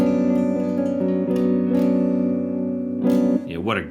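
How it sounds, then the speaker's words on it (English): Guitar run through a Stratosphere Cloud Reverb in an iPad looping rig holds long, washy sustained notes that blend into a steady ambient swell, with a brief voice-like sound near the end. "of course, the Stratosphere Cloud Reverb, which sounds like this."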